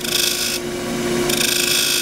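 A woodturning gouge cuts a bead on a cross-grain wooden box, giving a steady, close rasping scrape that shifts in tone partway through and carries on without talk.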